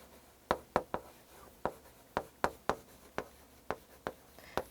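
Pen or chalk strokes during a lecture on a Digital SAT practice test, a dozen short scratchy taps and scrapes in an irregular rhythm, close and fairly quiet, with no talking.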